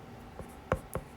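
Pen or marker writing Spanish verb forms by hand: a few short, soft scratching strokes spaced apart, close and quiet, with no one speaking.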